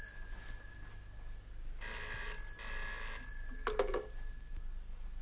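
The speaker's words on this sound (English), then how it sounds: "Oh, dear, there's the phone." An old telephone rings indoors in two clear bursts at moderate volume, with a faint clatter after the second ring and no talk.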